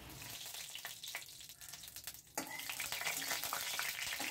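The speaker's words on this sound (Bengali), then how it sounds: "এখন এতে আমি কালো জিরে ফোড়ন দিয়ে দিচ্ছি।" Nigella seeds crackle and sizzle in hot oil for tempering, a fine spattering hiss that surges louder partway through and keeps going.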